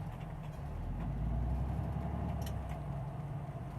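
A car engine rumbles steadily on the road while the driver downshifts through the gears, with a low continuous drone and a slight swell in the middle, heard from inside the vehicle, with no talking.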